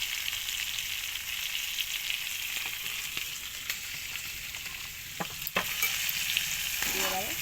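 Coriander and cumin powder frying in a pan for aloo dum, a continuous close sizzle with a few scraping stirs toward the end.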